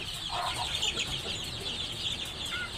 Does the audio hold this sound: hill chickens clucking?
yes